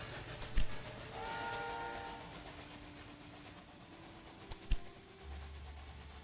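Train in the Railway Empire 2 game runs along its line, a low steady rumble with tonal whistle-like hums and two sharp clanks, quiet and without talk.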